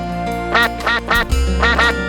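Ducks at a pond quacking in a loud, close burst of several rapid quacks, repeated in clusters over a steady background.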